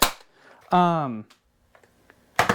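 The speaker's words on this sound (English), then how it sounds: "that's the firing demo" An Adventure Force Deuce Pro toy blaster, modded with replaced springs, fires two sharp, close pops, one at the start and one at the end, with a short burst of voice between them.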